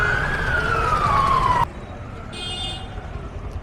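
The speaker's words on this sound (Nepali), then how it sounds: "एम्बुलेन्स एकदम धेरै देखेँ मैले" An ambulance siren wails along a busy market street in Madhesh, a loud, close falling tone that cuts off abruptly, followed by quieter street noise.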